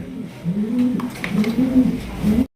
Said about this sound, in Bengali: এখানে রয়েছে আরো একজোড়া মাল্টেস কবুতর ব্ল্যাক কালার মাল্টেস